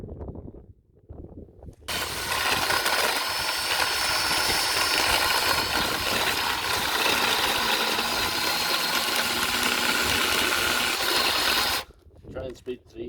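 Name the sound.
drill-powered chainsaw attachment running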